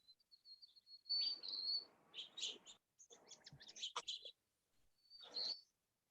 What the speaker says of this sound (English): And I can certainly hear the house finches there too.